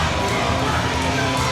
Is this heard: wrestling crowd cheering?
yes